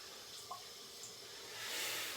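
Faint tap water runs softly while a face and shaving brush are wetted at a sink for a straight razor shave, with a light splash and a gentle swell of flow toward the end.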